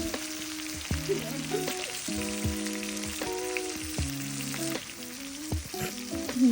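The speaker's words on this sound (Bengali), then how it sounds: "ইলিশ মাছ ভাজাটা ভালোই হচ্ছে" Hilsa fish pieces fry in hot oil in a pan, giving a continuous close sizzle and crackle with occasional stirring noises, while steady tonal sounds run underneath.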